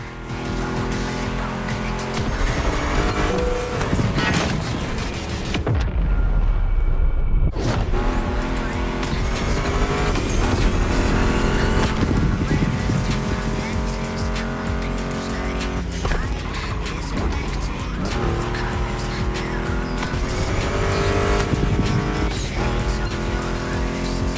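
Mustang GT muscle car engines roar in The Crew Motorfest racing game, loud and steady throughout, with tire squeal and dense music riffs layered over the engine noise.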